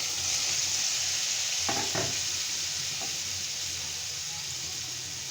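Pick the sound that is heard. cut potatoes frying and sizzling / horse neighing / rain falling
cut potatoes frying and sizzling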